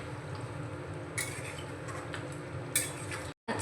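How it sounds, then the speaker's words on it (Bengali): A spoon stirs jackfruit curry (echorer kalia) in a pan after ghee goes in, with a soft steady scraping and sizzle and two sharper clinks of the utensil against the pot. "নাড়াচাড়া করে একটু মিশিয়ে নেব।"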